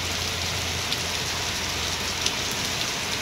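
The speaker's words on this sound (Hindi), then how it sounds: "दिखाई दे रहा होगा आपको कितनी खतरनाक बारिश हो रही है" Heavy rain pours down onto a rooftop, a loud, dense, continuous hiss of falling water with a faint low hum beneath and no voices.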